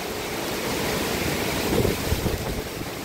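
Strong typhoon wind roars steadily at close range, a dense, constant rush with gusts that swell near the end, while coconut, papaya and banana trees are battered outdoors.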